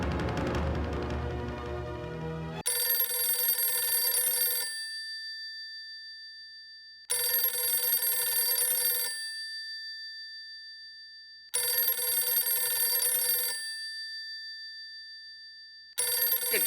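An electronic telephone ringtone rings four times in a steady repeating pattern, each bright two-second burst followed by a pause, after a brief jumble of background noise, in a Hindi TV sitcom scene.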